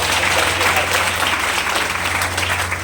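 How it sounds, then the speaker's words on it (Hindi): Vigorous audience applause at a birth-anniversary poetry gathering honoring a Mewar social worker, a thick continuous clapping crowd with a low hum underneath, loud and close for the whole stretch. "तो एट लास्ट एक बार जोरदार तालियों से स्वागत है"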